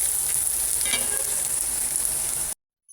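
Ground pork giniling sizzles steadily in a pan as it is stirred, a loud continuous frying hiss with a faint scrape of the spoon, then cuts off abruptly near the end.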